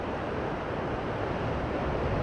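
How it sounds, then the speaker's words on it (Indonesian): Large ocean waves crash continuously on a south coast beach in Sukabumi, West Java, a steady loud roar of surf with wind buffeting the microphone throughout. "dahsyat sekali ombaknya"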